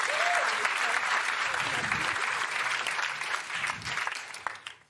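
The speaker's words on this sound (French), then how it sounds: "On peut lui dire merci, on peut l'applaudir, merci." A television studio audience applauds on a French talk show, dense steady clapping that fills the room and fades out near the end.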